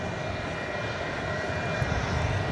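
An MD-11 tri-jet cargo plane at DFW Airport at night roars with a steady, loud, broadband engine rumble that holds constant throughout, with no voices over it.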